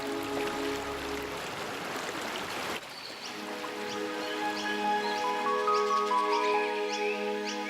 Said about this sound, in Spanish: Y el viejo río Fink fluye de nuevo.